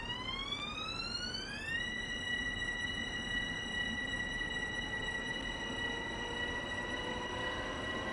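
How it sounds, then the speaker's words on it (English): A train in Train Sim World 2 pulls away, its steady whine rising in pitch and then holding a constant tone over a low, continuous rumble, quiet and with no talking. "And the train is moving."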